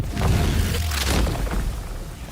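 A corpse fires a shot in the video game Banishers: Ghosts of New Eden, heard as a deep, heavy boom that rumbles on for about two seconds with no talk.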